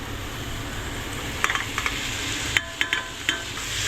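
Chopped fenugreek leaves stirred in a hot pan, a soft steady sizzle with a few sharp clicks and taps of a spoon against the pan, close and fairly quiet, no voices.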